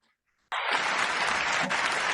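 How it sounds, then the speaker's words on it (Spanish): Dense, steady applause from an audience bursts in abruptly after a short near-silence and holds at full strength to the end. "ahí los ecos de los aplausos por todo el planeta"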